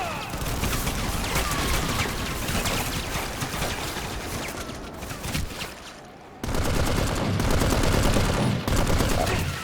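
A grenade launcher fires during PlanetSide 2 infantry gameplay. Loud, dense bursts of gunfire and rapid explosive reports come in clusters, broken by a brief drop around the middle, and the game's battle noise fills the background.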